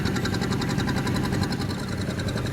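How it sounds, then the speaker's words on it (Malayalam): Steady, loud throbbing of a junk boat's engine as it pulls away from a jetty in Vietnam, a continuous mid-pitched chug with no voices. "ഞങ്ങളുടെ ബോട്ട് ജെട്ടിയിൽ നിന്നും അകലുകയാണ്."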